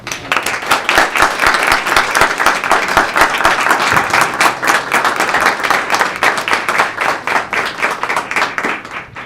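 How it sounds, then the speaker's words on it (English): Steady, dense applause from a roomful of people at a school district board of education meeting, sustained clapping with no break for the whole stretch. "we would like to all applaud and take a picture with you"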